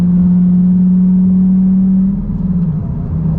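Lamborghini Gallardo engine heard from inside the cabin, a steady loud drone under acceleration that holds a constant pitch, then shifts and wavers as if changing gear near the end.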